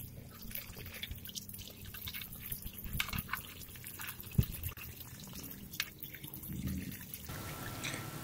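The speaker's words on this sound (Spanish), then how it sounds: "toda esta agua va a caer aquí en el pasto" Rinse water draining from a gas water heater being converted between LP and natural gas and spilling onto grass, a faint, irregular dripping and trickling at close range.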